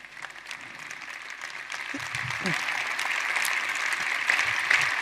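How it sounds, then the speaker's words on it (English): An audience at a talk applauds in a steady patter that gradually builds louder over a few seconds, with a speaking voice briefly audible beneath the clapping. "let's stop clapping so I can finish this one."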